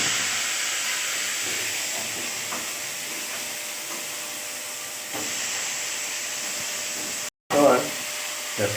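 Onion and potato slices sizzle in a pan with fried cumin seeds, a steady close broadband hiss running throughout, briefly cut off near the end before resuming with a stirring clatter.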